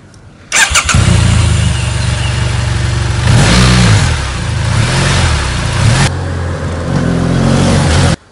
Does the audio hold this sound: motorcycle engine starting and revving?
yes